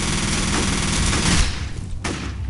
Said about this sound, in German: Wenn ich mal loslege zu schießen, höre ich nicht so schnell auf.